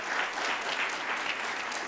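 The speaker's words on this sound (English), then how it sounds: "Do not be shy with your applause" An audience at an employee service award ceremony claps steadily, a dense, even patter of many hands filling the room with no break.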